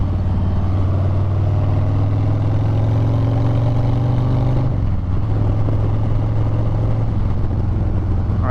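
Motorcycle cruising at about 50 mph on the highway, a steady loud engine drone with a dense rush of wind throughout, the pitch dropping slightly midway, and no talking.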